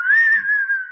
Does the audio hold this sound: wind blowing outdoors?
no